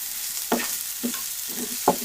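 Shrimp cooking in a pan with spinach on the way, stirred in three or four distinct scraping strokes over a steady hiss of frying, close and alone.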